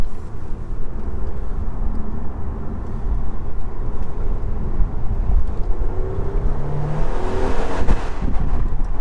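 Steady road and wind rush inside a 2019 Mercedes E450 4MATIC coupe driving with the windows down and the panoramic roof tilted open, a constant loud low roar with a faint rising engine tone toward the end.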